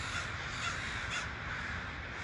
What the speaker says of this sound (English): I'd never seen a murmuration of crows before